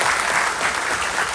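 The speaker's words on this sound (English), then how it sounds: "can we have a big round of applause for all of you" Dense audience applause from a crowd of MBA students at a prestigious management school, steady and loud throughout without pause.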